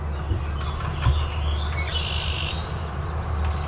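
A Baltimore oriole sings clear whistled phrases outdoors, a loud sustained note standing out over a steady low rumble, with fainter bird calls around it.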